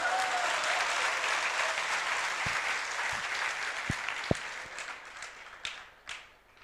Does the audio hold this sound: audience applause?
yes